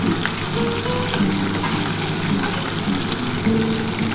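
Potato, bitter gourd and pointed gourd slices fry in oil in an uncovered pan, a steady crackling sizzle that continues throughout at close range, with no one speaking.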